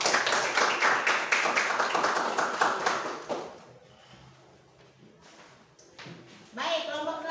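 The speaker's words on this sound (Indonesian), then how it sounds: "Mari kita berikan aplaus." A classroom student group applauds with dense, lively clapping for about three seconds, then it tapers into quiet room tone before voices and sounds pick up near the end.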